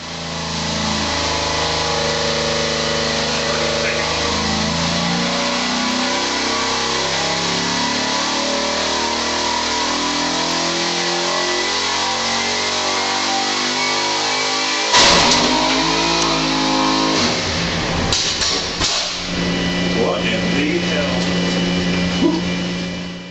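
A car engine revs hard and continuously for over twenty seconds, loud and close, its pitch rising and falling with throttle, followed by a rougher, harsher stretch, with speech at times underneath.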